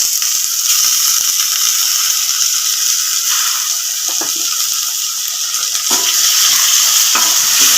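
Steady, loud sizzling of chopped tomatoes sautéing in a pan, with occasional scraping and clacking of a utensil stirring them. No talking.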